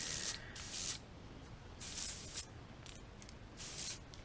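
Airbrush spraying paint thinned with reducer onto a crappie crankbait lure, several short close hissing bursts separated by brief pauses, quiet, with no talking.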